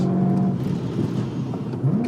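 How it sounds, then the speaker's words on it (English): A BMW M3 with a V8 engine on a mountain drive gives a steady close engine drone, with a tonal note early on and a rising rev toward the end. "This car is just making so many different noises,"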